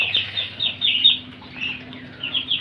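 Young Chinese ducks at feeding time give a rapid run of high, thin peeping calls, close and continuous over a faint low hum.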